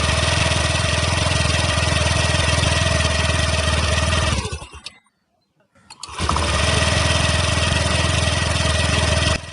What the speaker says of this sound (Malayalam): എൻജിൻ സ്റ്റാർട്ട് ആവും.